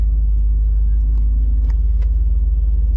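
A loaded logging semi truck rumbles past on the road, a steady low engine drone heard from inside a following vehicle, with faint rattles over the continuous road noise.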